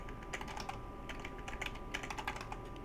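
A computer keyboard typing a save name in a game, with quick, uneven bursts of close, crisp key clicks over a low steady hum, and no talking.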